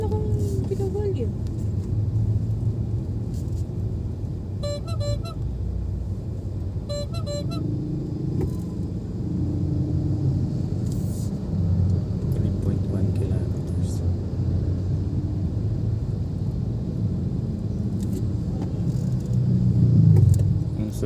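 A car's engine hums steadily while driving, a low continuous rumble throughout with occasional brief tonal beeps, as people talk inside the vehicle.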